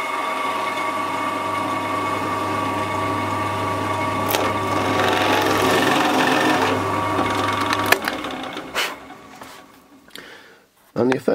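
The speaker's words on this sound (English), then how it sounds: "So I've cut these just oversize, and then I'll drill them out to" A drill bores out oversize laser-cut holes in painted metal parts to 13mm: a steady motor whine with a low hum runs for about eight seconds, then stops, followed by scraping and clattering sounds.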